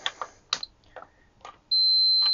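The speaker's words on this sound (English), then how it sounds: "Do we have a beep?" Continuity beep from a Fluke 21 or 23 multimeter: a steady, loud electronic tone starts partway through and holds to the end, following a few soft clicks and handling taps.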